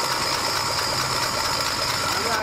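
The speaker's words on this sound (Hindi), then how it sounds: "अब हम लोग जो है आपको सीधे स्टार्ट करके दिखाएंगे इंजन को गाड़ी के अंदर।" A Bajaj Maxima auto tempo diesel engine runs steadily after starting in a repair workshop, a continuous close rumble with rattling vibration filling the whole clip.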